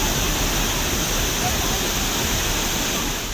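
Floodwater rushing over submerged roads in Barkot, a steady broadband roar of flowing water, loud and continuous throughout without breaks.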